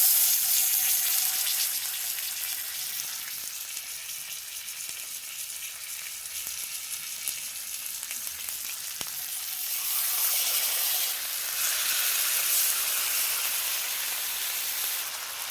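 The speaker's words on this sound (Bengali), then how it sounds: "এক এক করে এবার চিকেনগুলো দিয়ে দেবো প্যানে।" Marinated tandoori chicken fries in a buttered pan with a close, continuous crackling sizzle that swells again toward the end, broken by occasional faint clinks.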